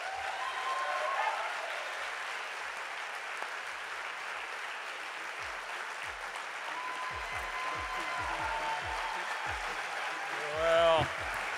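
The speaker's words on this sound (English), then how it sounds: "Please give him a huge round of applause." Audience applause at a climate-action keynote event, a broad steady clapping wash lasting several seconds, with scattered louder claps and a brief swell near the end.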